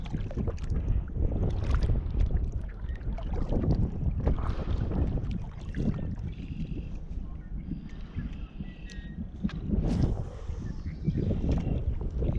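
Steady, loud wind buffets the microphone on open water during kayak fishing, a continuous rushing roar with gusty swells and faint splashes, with no talking.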